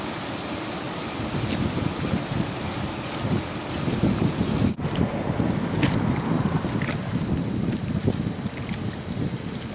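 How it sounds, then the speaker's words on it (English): Strong, steady wind gusts buffet the microphone during Hurricane Sandy, a loud continuous roar with low rumble throughout and a brief sharp break near the middle, with no voices. "really nasty wind gusts"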